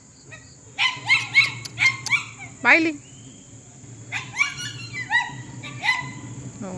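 A dog barks in rapid, high yipping bursts, two clusters of sharp barks close by, over a low steady hum with a brief voice.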